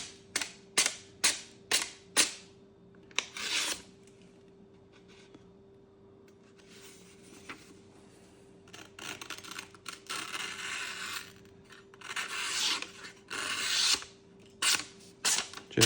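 A Shun 7-inch Santoku knife slices through folded paper, making a run of sharp, crisp snips early on, then longer rasping cuts and scattered quick slices, close and clear with no talking.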